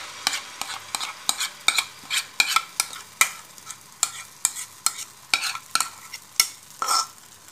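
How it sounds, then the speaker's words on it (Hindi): Pistachio paste roasting in a spoonful of ghee over a low flame, with a spoon scraping and stirring in quick repeated strokes over a soft sizzle, close and alone. "लो फ्लेम के ऊपर हमने जो ये पेस्ट बनाया है पिस्ता वाला इसकी सिकाई करेंगे हम"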